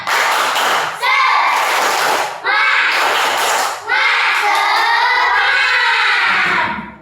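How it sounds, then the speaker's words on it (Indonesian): A group of primary school children in a classroom chant a rhythmic spirit clap together in several loud, sustained bursts, their voices carrying the beat with only faint hand claps showing through. "Tepuk semangat"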